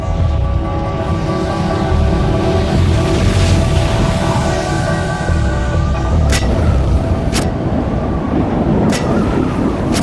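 Deep rumbling booms from the Krakatau volcanic eruption in a film scene, a loud continuous low roar with sharp cracks near the end, no talking.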